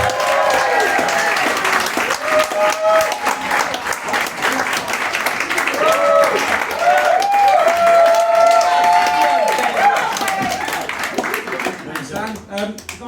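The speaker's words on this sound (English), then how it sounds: "will you please start clapping and cheering and welcome to the stage the wonderful Mr." A comedy club crowd in Reading claps and cheers to welcome comedian Ben Emmett, with loud sustained applause, whoops and voices calling out, tapering off at the end.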